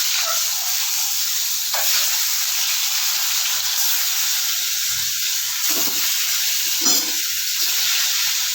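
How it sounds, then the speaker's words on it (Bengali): Duck eggs frying in hot oil in a pan, seasoned with salt and turmeric; a loud, steady hiss of sizzling runs throughout, broken by a few brief bursts of spatter and stirring. "ডিমগুলো ভাজা ভাজা হয়ে গেছে, আর একটু বেশি ভাজবো না।"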